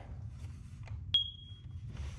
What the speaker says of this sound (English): This one should beep.